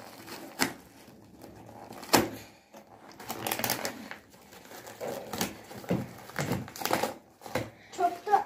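A delivered shipping package being torn open by hand, with irregular sharp crinkling rips and rustles at uneven intervals, mixed with nearby conversation.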